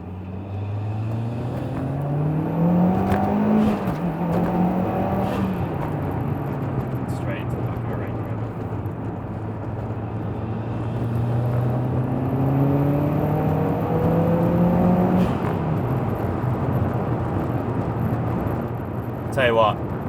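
A 2011 Mitsubishi Evo X accelerates hard past a roundabout, its engine note climbing through rising gear sweeps with shifts between them, loud and close from inside the car, with a voice talking over it.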